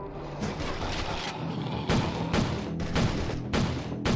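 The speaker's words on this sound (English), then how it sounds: "Gunfire's too loud." Repeated gunfire bursts from the video game Fallout Survivor, a run of loud booming shots spaced about half a second apart, dense and continuous over the whole span.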